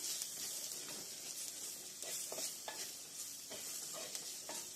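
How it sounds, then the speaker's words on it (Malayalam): Fish masala being stirred and sautéed in a pan on medium heat for a sardine curry: faint steady sizzling with a run of soft scraping strokes from the spoon, quiet and without speech. "മസാലയുടെ പച്ചമണം മാറുന്ന വരെ നല്ലപോലെ ഇളക്കി കൊടുക്കുക"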